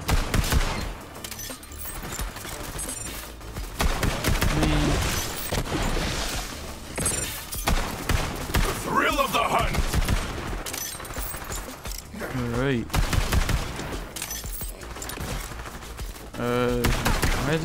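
Dense, continuous gunfire in the video game Borderlands 3, with rapid automatic bursts, booms and impacts layered with game effects and occasional voices.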